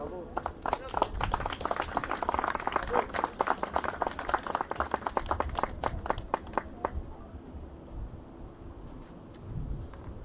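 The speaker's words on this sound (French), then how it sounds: "On peut l'applaudir." An audience at a French-language tribute event applauds with scattered, uneven claps that thin out and stop partway through, while a voice speaks under and after the clapping.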